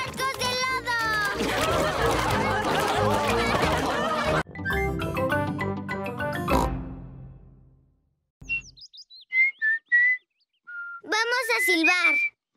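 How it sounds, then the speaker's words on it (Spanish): Cartoon characters from the Spanish-dubbed children's show Peppa Pig whistle a short run of bright, separate tonal notes after busy music, close and clear with brief gaps between them. "¡Vamos a silbar!"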